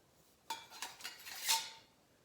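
Titanium wood rocket stove parts clink and rattle as they are handled, a few sharp light metallic knocks followed by a brief brighter jangle, close and otherwise quiet.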